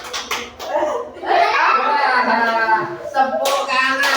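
Children clap their hands in a left-right clapping game during a classroom lesson, with sharp scattered claps mixed with children's voices and laughter.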